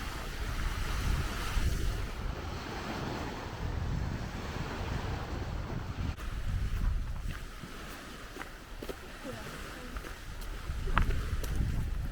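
Water lapping on a small lakeshore beach along the West Highland Way near Drymen, a soft continuous wash with gentle surges, heavy outdoor wind rumbling over the microphone, with no voices.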